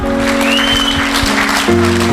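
An audience claps together at a celebration, a dense steady round of applause under a held musical drone, fairly loud and close throughout.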